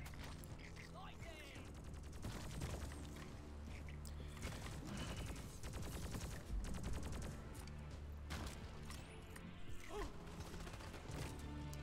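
Sentry turret in Deep Rock Galactic firing rapid continuous bursts amid dense, busy game combat noise against bug swarms, the rattling fire running nearly the whole time at a steady moderate level.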